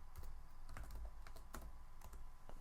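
Quick, light taps on a computer keyboard as a short command is entered on a Linux console, several crisp keystrokes in an uneven burst, close and faint.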